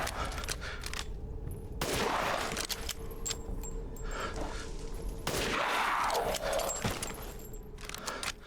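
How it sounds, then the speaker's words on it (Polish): Gunfire in Resident Evil Village: sharp shots and bursts crackling over a dense, noisy mix of clattering effects, with a few louder blasts standing out. "połowa tych strzałów to były headshoty!"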